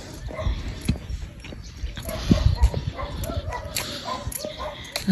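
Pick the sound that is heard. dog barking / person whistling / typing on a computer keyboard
dog barking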